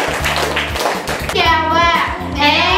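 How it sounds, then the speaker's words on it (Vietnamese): A class of children claps in a short burst of applause, the clapping mixed with an adult voice and children's chatter in a classroom after a spring-roll making lesson. "hãy cho các bạn một tràng pháo tay"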